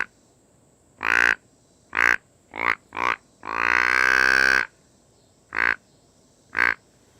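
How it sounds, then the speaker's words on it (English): A hand-blown deer grunt call gives a series of short, close, throaty grunts and one longer drawn-out grunt in the middle, separated by quiet gaps, with no talking. "Now I blow my grunt call with my hand."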